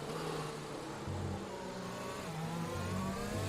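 Racing car engine in a sim racing esports game, a steady loud droning whir with shifting pitch held throughout, without speech.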